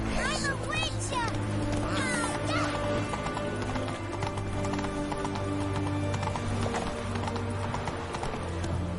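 Horse hooves clip-clop in The Witcher video game, a steady rhythmic trot under loud game music and ambient sound, with character voices talking over it.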